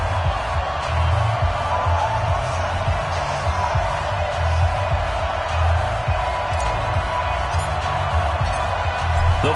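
Stadium crowd noise at a New York Giants vs Philadelphia Eagles game in an EA Sports football video game, a steady, broad roar holding at an even level throughout.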